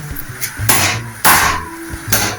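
Three loud, sharp metallic hammer strikes on a servo motor bolt, spaced about half a second apart, each ringing briefly, close by with no talking.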